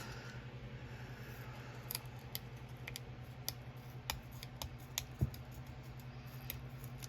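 Small nail scissors cutting down a cardboard half box, heard as quiet, irregular sharp snips and clicks spaced across a faint background hum.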